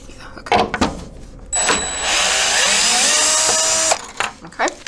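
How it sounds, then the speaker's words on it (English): A power drill reverses out screws on a Fusion3 EDGE 3D printer, whining steadily for about two seconds, loud and close, with clunks and handling noise before and after. "I'll take the drill"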